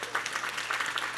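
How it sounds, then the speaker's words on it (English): Brief, lively clapping from the audience at a venture capital forum panel of Black female founders, a dense burst of hands sustained for just over a second. "give her a round of applause"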